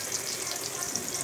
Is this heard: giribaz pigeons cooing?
no